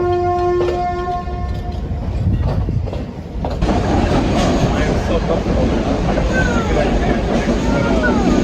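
A train in Sri Lanka rolls along the rails with a steady, loud rumble and rattle, preceded by a brief horn-like tone before the running noise grows louder and fills the space.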